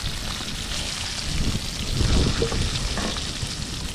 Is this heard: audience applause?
no